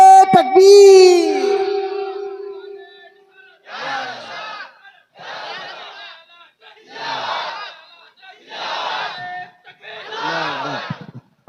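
A religious gathering answers a preacher's chant: one voice gives a long, wavering call, then the crowd shouts back in unison five times, each loud burst separated by a short pause.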